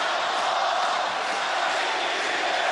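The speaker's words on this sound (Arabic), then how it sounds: "اسيب حضراتكم تستمعوا بصوت الجماهير" Football crowd at the Al Ahly versus Modern Future Egyptian Super Cup final, a dense, loud, continuous roar of cheering filling the stadium without a break.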